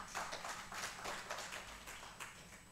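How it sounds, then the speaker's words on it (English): An audience claps after an academic presentation at a gut microbiota workshop, producing a soft, steady patter of many hands that sounds moderately distant and continues throughout with no talking over it. "let's give a hearty clap."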